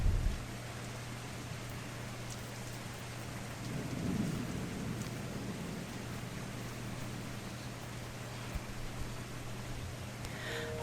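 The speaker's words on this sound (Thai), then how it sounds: "ตอนนี้เฉิงตูก็ฝนตกเบาๆนะคะ โหลดยังไม่เสร็จหรอกแต่เสียงมาก่อน" Steady rain falls over the city of Chengdu in the game 9yin, a constant hiss with a low rumble underneath that swells slightly midway. No one speaks.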